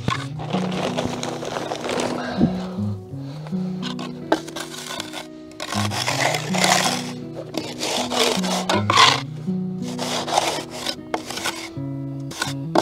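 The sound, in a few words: rubbing up a screed surface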